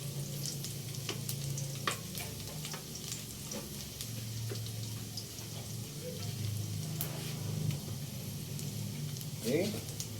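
Garlic sizzles steadily in hot oil in a pan, a continuous soft frying crackle with occasional faint clinks, running the whole time at moderate, close range.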